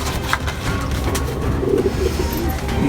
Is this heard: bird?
yes